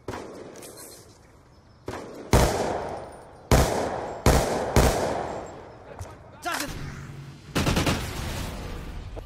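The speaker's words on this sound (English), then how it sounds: "you're using a lightless freaking machine gun?" Bursts of automatic machine gun fire from a video game, several short sharp volleys spaced apart over a low background, loud and close with no talk over them.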